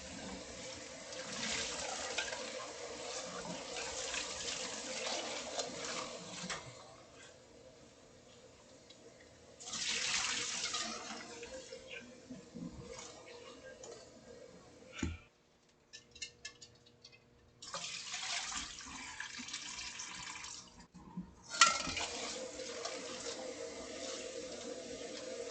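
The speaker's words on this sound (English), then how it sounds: "So now I'm gonna drain the water." Tap water runs into a kitchen sink while eggs are being cooked, coming in several loud bursts of gushing flow separated by quieter pauses with faint clinks and ticks.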